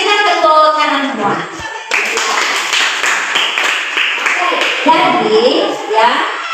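A group of students clapping together during a group counseling session, a steady burst of hand claps that starts partway through, overlapping with speech before it.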